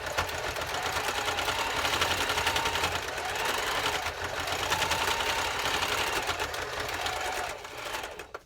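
A sewing machine runs continuously while stitching pieces onto the end of a skirt's elasticized drawstring, a steady, fairly quiet whirring hum with rapid needle clatter that briefly falters near the end.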